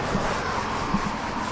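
Soft cloth rubbing conditioner onto BMW 320d G20 seats in circular strokes, a faint continuous scuffing swish up close with no voices.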